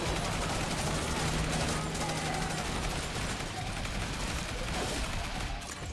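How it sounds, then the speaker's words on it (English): Shotgun fire in the Yet Another Zombie Survivors video game, dense and continuous. The shots blur into a steady, loud barrage with no clear gaps, and faint talk may sit underneath. "let's go shotgun"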